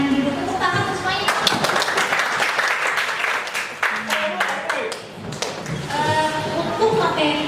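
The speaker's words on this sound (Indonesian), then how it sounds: "tepuk tangan semuanya." A classroom of students claps hands together, scattered and uneven at first, then dense and close. A teacher's voice speaks before and after the clapping.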